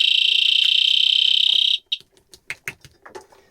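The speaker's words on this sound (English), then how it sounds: "So this is a water alarm. So if water starts to leak out of the quadrant, then the alarm is going to go off." A water leak alarm inside the Aquarius underwater habitat sounds a loud, steady high-pitched electronic tone for nearly two seconds, then cuts off, followed by scattered clicks and knocks.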